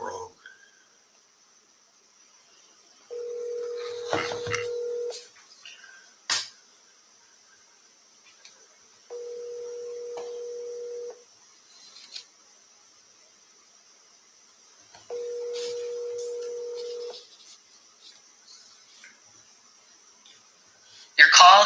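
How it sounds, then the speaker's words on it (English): Phone-line tones during a call to a dental office's automated menu: three steady two-second beeps spaced several seconds apart over a faint hiss, with brief clicks between them. "I dialed the wrong number."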